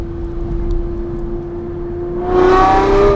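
Aston Martin manual V12 engine idling with a steady low tone, then rising into a brief, louder rev near the end, heard close by.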